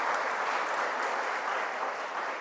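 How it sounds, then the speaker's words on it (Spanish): A church congregation breaks into steady applause, a dense, even wash of many hands clapping that holds at a constant level with no voices over it. "un aplauso para ustedes"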